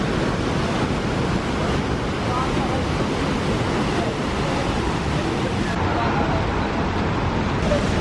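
A waterfall at Mount Rainier rushes in a loud, steady roar of falling water with wind buffeting the microphone, and a voice speaks faintly under the noise.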